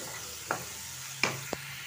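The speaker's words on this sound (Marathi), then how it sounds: "कांदा मस्त लाल होईपर्यंत फ्राय करून घेऊ" Onion frying in butter with cumin seeds gives a steady low sizzle, broken by three sharp spoon-against-pan clacks, two close together near the end.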